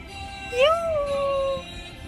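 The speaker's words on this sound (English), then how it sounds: "my dogs are going nuts" A dog lets out a single drawn-out, rising-then-falling whining howl lasting about a second, fairly close, over a low steady room background with no talking.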